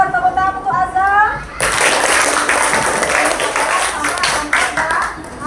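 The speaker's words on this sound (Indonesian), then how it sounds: "tepuk tangan untuk Azam." Loud, sustained clapping from a classroom group breaks out after a brief sung or spoken lead-in and keeps going steadily.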